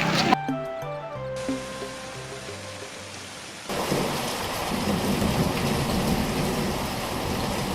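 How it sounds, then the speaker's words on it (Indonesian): Heavy rain falls at night as a dense, loud, steady downpour that starts abruptly after a few seconds of melodic tones and continues to the end. "hujan malam deras juga ternyata"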